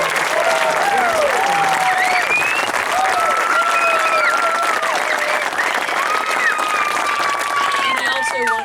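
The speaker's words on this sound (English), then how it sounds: "Let's give all of them a round of applause." Outdoor crowd applause at a National Park Service event for Katahdin Woods and Waters National Monument, steady sustained clapping mixed with whistles and cheers throughout.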